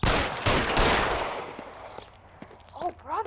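A burst of gunfire in L.A. Noire, loud and sharp at the start, then fading into scattered reports as a voice cries out in the game.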